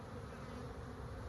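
Honey bees buzzing inside an open hive, agitated, a dense continuous hum heard close and steady, no voices.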